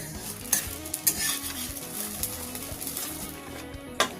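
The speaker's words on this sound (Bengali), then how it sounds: "আবারও একই রকমভাবে সবগুলো ভেজে নেব" Rice-flour soru chakli pitha crepes frying in a pan, a soft, steady sizzle broken by occasional sharp clicks and taps of a utensil against the pan.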